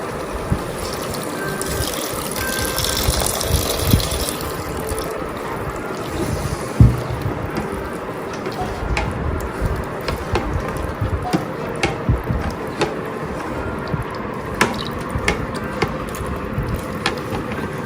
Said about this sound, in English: I'm adding 3 cups of water.